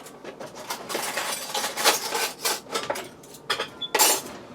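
Shredded Parmesan cheese being blended into a filling, heard as a steady run of close scraping and clinking of a utensil against a bowl, with no voices.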